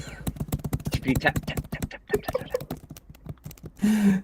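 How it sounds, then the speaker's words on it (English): Rapid, clicky keystrokes from a computer keyboard that clatters like a typewriter, fairly close and steady, with a brief louder burst of noise at the end. "It's clicky clacky."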